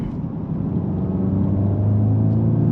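A Volkswagen Mk8 GTI's engine and exhaust give a steady, close, deep rumble that swells slightly as it builds, with no talking.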